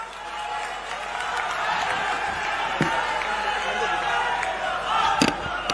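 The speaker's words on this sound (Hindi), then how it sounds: "जोरदार तालियां माननीय राहुल गांधी जी के लिए।" A large crowd at the Awaas Nyay Sammelan rally in Bilaspur, Chhattisgarh, breaks into sustained applause and cheering for Rahul Gandhi after his speech, a dense wash of clapping with scattered shouts and voices mixed in.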